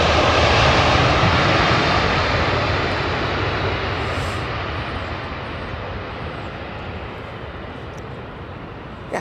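A Saudi Arabian Airlines jet in special livery roars loudly and continuously at Heathrow, a broad sustained engine rumble that fades slightly over several seconds with no talk.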